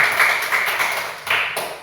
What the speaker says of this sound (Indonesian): Tepuk tangan untuk Junior.